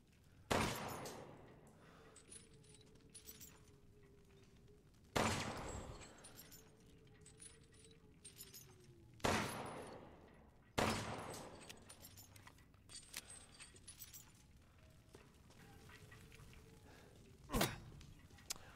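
Single heavy gunshots in Resident Evil 8, about five spaced booming reports, each trailing off into a ringing decay, with quieter game ambience between them.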